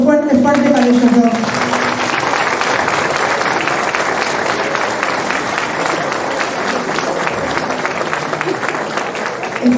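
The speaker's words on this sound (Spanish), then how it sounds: "A quien pido un aplauso fuerte, fuerte para ellos dos." Audience applause at an evening event for a children's home, loud sustained clapping from a crowd that fills the whole stretch, with a voice briefly heard at the start.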